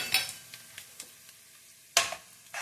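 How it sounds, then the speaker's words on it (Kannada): Cumin seeds spluttering in hot oil for a vegetable paneer chapati roll, with sparse sharp pops and crackles, two louder bursts, and light sizzle between them. "ನೋಡಿ ಜೀರಿಗೆ ಎಲ್ಲ ಇದಾಗಿ ಸಿಡ್ದಿದೆ"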